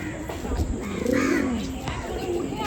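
A Madrasi pigeon coos in soft, low, rolling notes, close by, over a faint background hiss.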